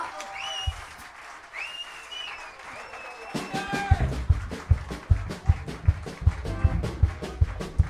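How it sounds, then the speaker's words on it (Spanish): At a jazz show in the Black Note Club, whistles and cheers rise from the crowd, then hearty applause breaks out with rhythmic clapping, close and lively, with some shouting mixed in. "¡Fuerte aplauso!"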